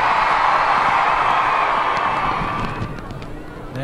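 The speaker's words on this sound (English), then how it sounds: "Come on, big cheer" A crowd of some 35,000 people at the 2012 Olympic torch event in Warrington cheers loudly, a broad roar of voices and whoops that fades gradually toward the end.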